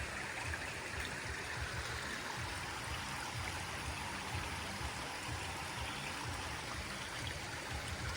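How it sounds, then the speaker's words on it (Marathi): A stream rushes and gurgles steadily and continuously at close range, a full, even wash of flowing water with no other sounds. "हा जो ओढा आहे हा ओढा पश्चिमेकडनं पूर्वेकडे वाहत जातो"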